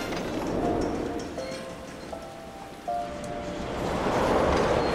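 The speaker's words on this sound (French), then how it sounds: "Ah mon dieu, il pleut." Rain falls in the Final Fantasy XIV game world as a soft, steady wash of patter, faint and even, with a few light tonal chimes drifting through and a slight swell near the end.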